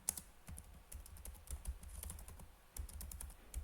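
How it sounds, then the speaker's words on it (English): Quiet, close typing on a computer keyboard, with irregular keystroke clicks in short runs and a brief pause midway. "once you click on edit, you see now I can type anything"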